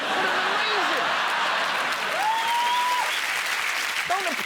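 Steady applause from a large television studio audience fills the whole stretch, with a voice briefly rising above the clapping.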